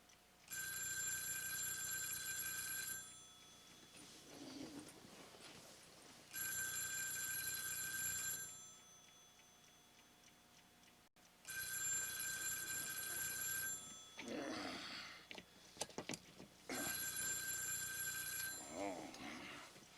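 An old-fashioned telephone bell rings loudly in bursts of about two to three seconds, repeating four times, with people talking in the pauses between rings.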